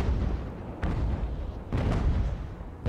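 Naval cannons boom from sailing warships in the Age of Sail naval battle game Ultimate Admiral: Age of Sail: dense, rumbling broadside fire with two sharper blasts standing out in a continuous roar.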